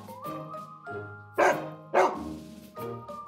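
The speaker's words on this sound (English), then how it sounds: "Number 3, fear of big dogs." Big dogs barking: two loud, sharp barks stand out near the middle, surrounded by lower tonal whines and yelps, close and clear with no talking.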